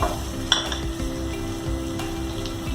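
Shallots and onions frying in a pan for Chettinad fish curry, a steady close sizzle with occasional light stirring scrapes and a brief utensil clink.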